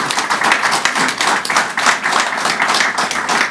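Hall audience at a book launch clapping steadily for Gayane, dense and close applause filling the whole stretch without talk.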